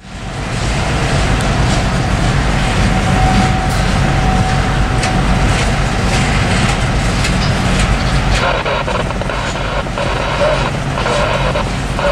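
A Norfolk Southern freight train led by GoRail Unit 6963 rumbles past continuously with heavy, steady low-end roar and rattling wheel noise, loud and close throughout.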